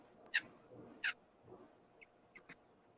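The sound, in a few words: local birds chirping outdoors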